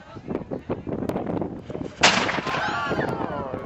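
A cannon fires outdoors in Kinsale, a single loud sharp boom that rolls into a long echoing rumble, with people chatting just before the shot.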